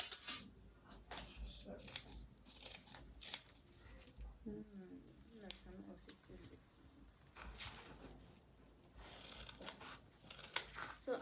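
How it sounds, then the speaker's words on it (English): Scissors snip through green jean fabric along a handbag pattern line, a series of close, crisp cuts in short bursts with pauses and light rustling of the cloth between them. "So I'm just going to cut on the line."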